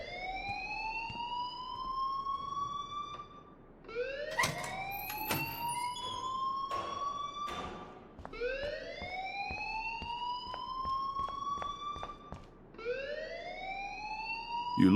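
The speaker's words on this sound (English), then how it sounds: "please turn off that alarm since that's your job" A repeating alarm in the video game Life is Strange wails in long rising sweeps, about four cycles across the clip, loud and steady with no talk over it.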